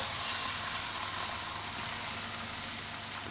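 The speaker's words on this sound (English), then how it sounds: "So you pour your egg, your scrambled egg in." Beaten egg with vegetables sizzles and crackles steadily in an 8-inch frying pan, a close, dense hiss that carries on without a break and has no speech over it.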